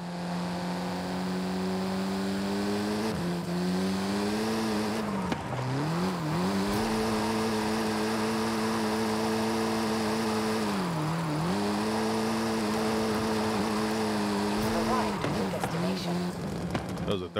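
A Volkswagen Golf R drifting in Forza Horizon 5, its engine holding a steady high drone that dips and swoops as revs fall and recover through the slides, loud and continuous throughout.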